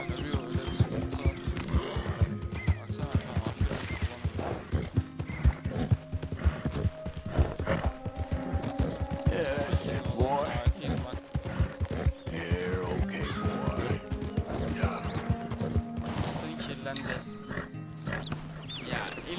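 Horse in the Red Dead Redemption 2 game, with steady clip-clopping hooves and occasional neighs and snorts throughout, close and fairly busy, with someone talking at times.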